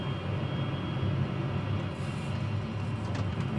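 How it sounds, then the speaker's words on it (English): Number four jet engine of a de Havilland Comet spooling up, a loud, dense continuous roar with deep rumble, steady and close, filling the whole stretch without voices. "number four engine spooling"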